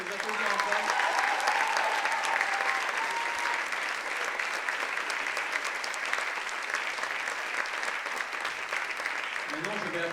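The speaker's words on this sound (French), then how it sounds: "on peut les applaudir encore" Sustained applause from a live audience for the dancers at the Atlanthropia rock opera concert, dense steady clapping and crowd noise lasting throughout, loud and continuous.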